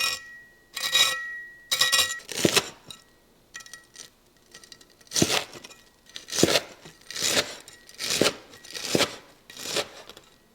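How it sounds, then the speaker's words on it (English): A knife slices crispy fried tonkatsu pork cutlet into strips, each stroke a sharp crackling crunch, repeated about ten times in a loose rhythm with short silent gaps, close and clear. "then you can cut these into those signature strips"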